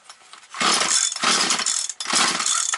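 A Husqvarna 240 chainsaw started and run, heard up close as three loud, harsh revving bursts with short drops between them.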